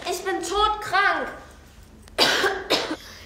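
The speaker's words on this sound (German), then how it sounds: "Hören Sie meinen Husten?" A woman coughs twice in sharp, loud bursts near the end, after a stretch of nearby speech.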